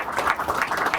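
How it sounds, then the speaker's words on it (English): A short burst of audience applause at a talk about UFOs, heard as a dense, steady patter of many hands clapping with no voices over it. "give him another round of applause."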